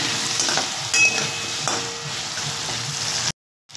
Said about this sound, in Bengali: প্রথমে আমি আলুগুলো ভালো করে ভেজে নেব।